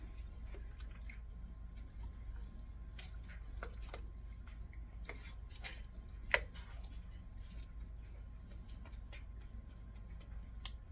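A wooden spoon stirs thick chili in a pot, giving soft, irregular wet squelches and light ticks at low volume over a quiet background.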